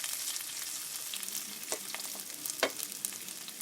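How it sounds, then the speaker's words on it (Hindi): Onions sizzle steadily in hot ghee and oil in a kadai as they lightly brown, with a few sharper scrapes and clicks of stirring breaking through the continuous close hiss. "थोड़ा सा प्याज को लाइटली ब्राउन करेंगे"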